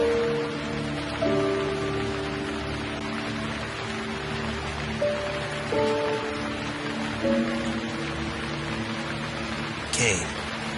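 Steady rain falls across the rain-drenched planet of Barracus in the game Gemini Rue, a continuous hiss under low sustained music tones, with a brief sharper burst near the end.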